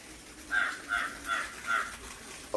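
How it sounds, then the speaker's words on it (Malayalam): A crow caws four times in an even rhythm, moderately near and clear over faint background hiss in an outdoor home setting. "കിളികളുടെയൊക്കെ ശബ്ദങ്ങളും ഒക്കെ കേൾക്കും"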